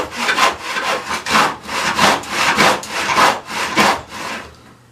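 An old hand saw cuts through wood in steady back-and-forth strokes, about two a second, loud and close, with no talk until the cut finishes and the sound drops away.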